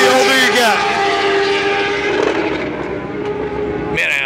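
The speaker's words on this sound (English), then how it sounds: "These bikes sound wicked." Racing motorcycles scream past at speed on the New Hampshire Speedway track during Loudon Classic qualifying, a loud sweeping engine howl that fades, then another bike rushes in sharply at the end.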